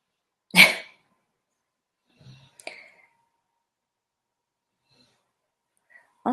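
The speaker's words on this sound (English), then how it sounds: "Can you hear my dog?" A dog gives a short sharp huff like a sneeze or cough, followed a little later by a few quieter snorts and breathy sounds, with silence between them and a final brief noise at the end.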